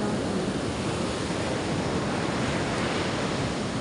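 Sea waves roar constantly on a rough day, a loud, unbroken wash of surf with no pauses or voices.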